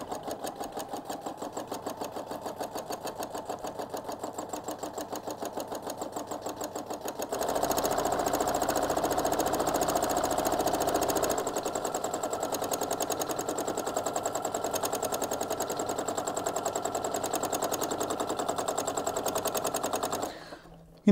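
A sewing machine stitches around a sugar skull appliqué outline, with rapid, even needle chatter that runs continuously up close, grows fuller midway and stops abruptly at the end.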